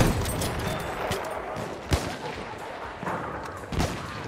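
An enemy machine gun firing in a World War I shooter game, a dense stretch of distant and nearby gunfire with a few sharper, louder shots standing out from the steady battlefield clatter.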